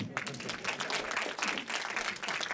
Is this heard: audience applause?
yes